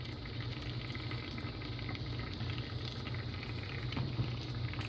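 Water heats with a 500 watt immersion electrode heater, giving a steady, close bubbling and seething hiss that holds at even loudness throughout, with no voices.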